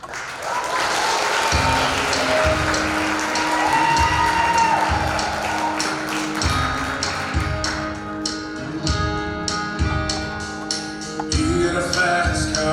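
A pageant audience applauds and cheers as contestants walk onto the stage, with steady, loud clapping and bursts of whoops ringing out over thumping music in a large hall.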